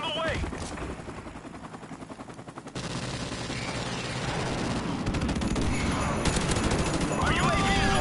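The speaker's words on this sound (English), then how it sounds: "Friendly airstrike on the way." Dense, continuous rumbling blasts of a friendly airstrike in Call of Duty: Modern Warfare Remastered, loud and sustained for the whole stretch with the barrage swelling toward the end.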